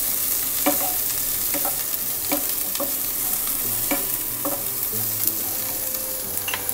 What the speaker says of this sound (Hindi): सारी सब्जियां डाल लेनी है। इसे अच्छी तरह से हम मिक्स कर लेते हैं।